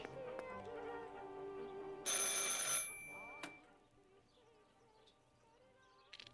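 A telephone rings in the video game Martha Is Dead with a bright electronic trill over a soft musical background, followed by quieter ambient tones.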